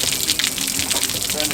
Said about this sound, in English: Turn this water